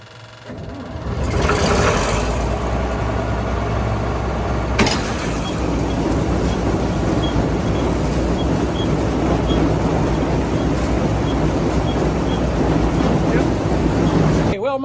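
A 6600 machine starts up with a sharp jolt and then runs continuously, its pulley and shaft spinning in a steady mechanical churn with a faint repeating tick, loud and close, with brief talk before the start.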